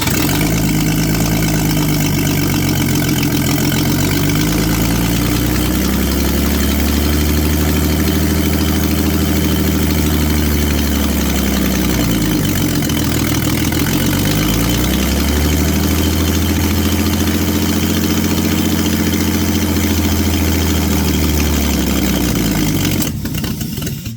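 A 1953 Ford 4x4 engine with no muffler, running for the first time: a loud, rough, lumpy idle that dips and rises in speed over about twenty seconds, cutting off abruptly at the end.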